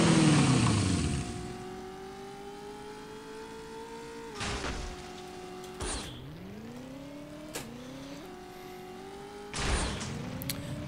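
A modified Manta hover vehicle's engine revs in Unreal Tournament 2004, holding a steady tonal whine that swoops and dips in pitch several times, punctuated by a few sharp bursts at moderate volume.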